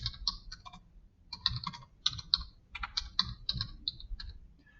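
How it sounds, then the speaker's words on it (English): Typing on a computer keyboard, a few short bursts of sharp, close key clicks separated by brief pauses, with no voices. "So I would type in"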